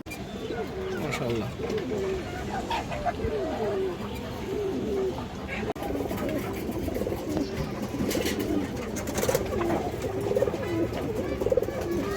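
Indian high-flyer pigeons coo repeatedly in soft, rolling calls close by, while someone talks over them throughout.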